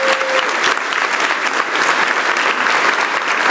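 A church congregation applauds loudly and steadily, a dense wash of many hands clapping close by that fills the whole stretch without letup.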